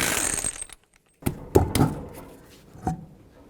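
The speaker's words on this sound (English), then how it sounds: "21mm socket, remove all 5 of your lug nuts" A ratchet with a 21mm socket loosens the wheel lug nuts on a 2003-2007 Nissan Murano before a rear brake caliper job. A few sharp metallic clicks and clanks stand out after a brief quiet gap, close and fairly soft.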